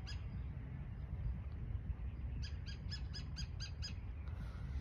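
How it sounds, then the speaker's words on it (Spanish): Small birds chirp outdoors in a short burst of repeated high, quick calls in the second half, faint and somewhat distant over a low, steady background rumble. "¿oyes los pajaritos?"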